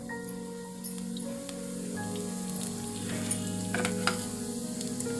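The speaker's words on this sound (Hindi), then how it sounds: "अब मैं इसमें डालती हूँ जीरा" Cumin seeds hit a hot pan and crackle into a steady, close sizzle, with a few sharper pops rising through the continuous frying hiss and no voices.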